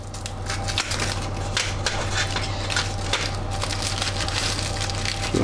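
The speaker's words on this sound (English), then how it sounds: "just cut it in half with a strong pair of scissors" Strong scissors slice through a pizza cone mould with a run of close crunching, crackling snips, uneven and dense, with no voices over them.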